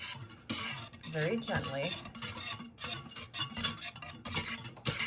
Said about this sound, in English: I'm gonna go back to my whisk method. Just gently melt this.